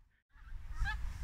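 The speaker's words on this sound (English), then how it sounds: "Amazing place to be painting, the geese going over." Geese honking as they fly over an outdoor spot where ducks are being sketched, a few calls rising out of quiet, fairly faint and distant.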